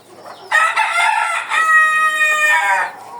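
A rooster crows loudly and close, with a long, strained, harmonic call stretched over a couple of seconds, preceded by softer clucking from the desi chickens.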